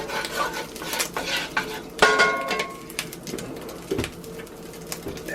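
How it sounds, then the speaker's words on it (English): Metal utensil scraping sausage bits across the bottom of a cast iron pan, a busy run of scrapes and clinks with a sharper clatter near the middle, close and fairly loud, with a faint bird-like chirp in the background. "Scrape up some of these sausage bits."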